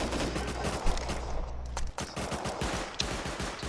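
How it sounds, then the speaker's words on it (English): Turret firing during a raid in a video game: rapid bursts of automatic gunfire, sharp repeated shots in quick rhythm, loud and close, with no talk. "Is that the turret shooting down there right now"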